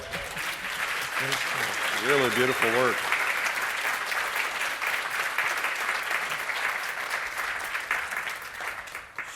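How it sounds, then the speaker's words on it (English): Audience applause on a painting podcast about plein air painting and the movie industry, a dense, steady roar of clapping throughout, with a voice briefly speaking over it early on. "How about a round of applause?"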